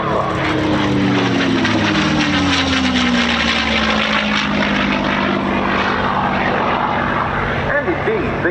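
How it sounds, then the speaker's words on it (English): A propeller-driven Mustang fighter with an American Allison V-1710 engine passes at an air show, its loud engine drone dropping in pitch as it flies by, while a commentator talks over it. "This aircraft, as I say, used the American Allison B-1710 engine, a very good, dependable power plant"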